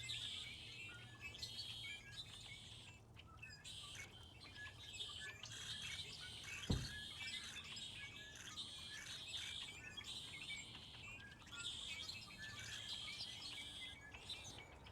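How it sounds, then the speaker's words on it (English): A wild bird chirps in a tree outdoors, quick repeated high tweets coming in bursts against faint insect buzz, with one sharp thump partway through. "You go and you notice a bird in the tree here"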